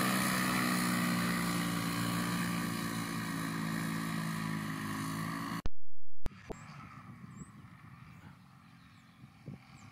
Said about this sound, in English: We're just making sure that it can taxi up and down the runway and that there's no problems.